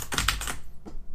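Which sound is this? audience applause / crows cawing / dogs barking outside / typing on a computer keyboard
typing on a computer keyboard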